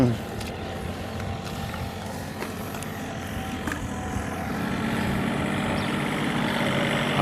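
Farm tractor engine running in a field during a harvest of mole crickets, a steady low rumbling drone that grows slightly louder toward the end, with people talking over it.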